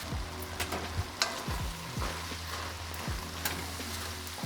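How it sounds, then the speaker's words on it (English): Taco soup ingredients sizzling quietly in a stock pot, with a steady frying crackle and a few soft scraping stirs of a spoon against the pot. "start putting everything into my stock pot and incorporating it"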